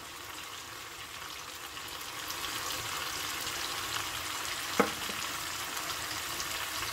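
Mutton karahi sizzles in a pot as spices are stirred in, a steady frying hiss with a single sharp scrape or clink of the spoon partway through.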